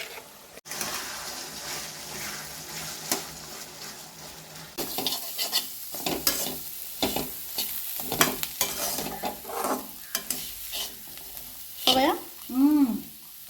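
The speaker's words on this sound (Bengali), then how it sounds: "কাঁঠালের বীজ ভাজা" Jackfruit seeds fry in a pan, soft sizzling under repeated scraping stirs and clinks of a utensil against the cookware, with a few louder knocks near the end.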